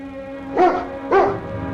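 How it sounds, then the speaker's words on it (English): A dog in a Yukon mountie adventure drama gives two sharp, close barks about half a second apart, over a faint steady hum. "It's that dog. He's with him."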